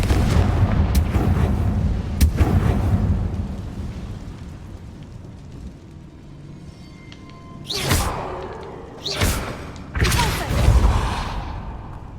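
Confringo blasting spell in the Hogwarts Legacy video game: a rumbling barrage of booming blasts at the start, then three sharp, loud explosions in quick succession near the end, with no voices.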